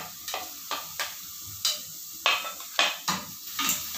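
Shrimp cooking in butter in a pan, heard as a series of short scraping stirs and light clinks about every half second over a faint, steady sizzle, close and alone.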